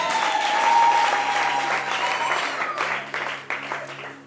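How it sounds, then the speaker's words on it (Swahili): Congregation at a church youth seminar claps and ululates in praise of Jesus, a dense, steady burst of applause with high trilling cries on top that thins out toward the end. "Hebu tumpembee Yesu na makofi na vigelegele."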